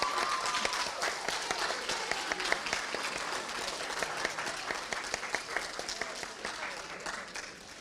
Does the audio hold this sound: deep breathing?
no